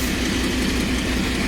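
A Class 56 diesel locomotive at Peterborough rumbles past with a loud, steady low engine drone and faint rhythmic rail clatter, heard close and unbroken, with no talking.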